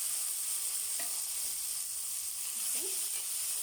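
Chopped tomatoes going into a frying pan with onions, green chillies and ginger garlic paste for tomato rice, giving a continuous sizzle with a couple of short scraping stirs heard up close.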